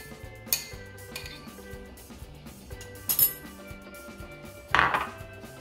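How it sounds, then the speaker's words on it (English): A utensil knocks against a bowl while eggs are beaten for a key lime pie, with a few sharp clinks spread apart over a quiet background. "you want to get your eggs all mixed together, softened and broken up"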